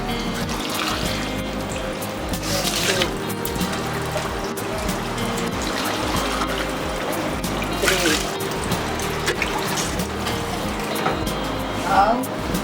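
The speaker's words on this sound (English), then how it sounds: "Ten cups of rice, you put 12 cups of water." Water is poured into a pot to cook tomato rice, twelve cups for ten cups of rice: a continuous splashing, rushing flow runs throughout at moderate loudness, with a voice counting over it.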